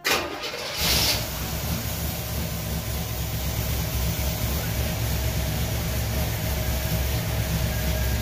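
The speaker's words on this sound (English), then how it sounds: "we're gonna go for a second start here on the motor" A 1977 Chevy Camaro engine cold-starts in a 30-degree garage: a brief cranking burst, then it catches and settles into a steady, loud, rumbling idle that runs on alone.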